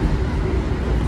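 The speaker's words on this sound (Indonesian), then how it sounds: "Papasan sama kereta jarak jauh." Long-distance train rushing past the Argo Cheribon at over 110 km/h, a loud, dense roar of wheels and passing carriages heard up close from inside the moving train.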